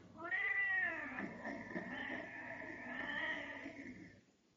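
A tomcat meows in long drawn-out, wailing calls, two extended yowls close by and fairly quiet, with no other sounds around.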